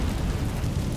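Incendio fire spell cast in Hogwarts Legacy, a dense, roaring whoosh of flame that fills the moment with a low rumbling burst, steady and loud throughout.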